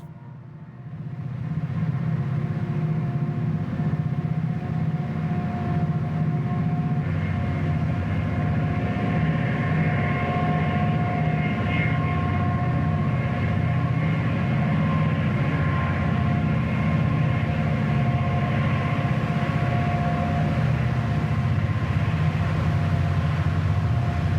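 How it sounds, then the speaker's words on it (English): A train climbs through a mountain pass beside the Price River, heading for Nolan. A steady loud rumble of engine and wheels holds with droning tones throughout and no talk. "Our train has climbed through the pass at the base of Castle Gate and is now heading for Nolan."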